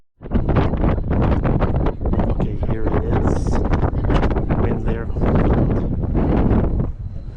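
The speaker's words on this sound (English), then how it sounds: "it might be windy, so you might just hear" Wind buffeting the microphone on an open cruise ship deck, loud gusty roaring and rumble that stays strong for several seconds.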